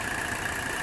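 Mercedes 300 SD diesel engine idling shortly after a diesel purge, a brief, faint, steady running hum with an even mid-pitched drone and no speech.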